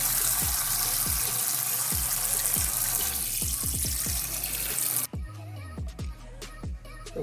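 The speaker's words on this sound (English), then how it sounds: "I usually take out the pieces that's already broken and then rinse them off." Great northern white beans rinsed under a running kitchen tap, a steady loud rush of water with irregular splashes and sloshes, close up and without talk, the flow cutting off partway as handling sounds continue.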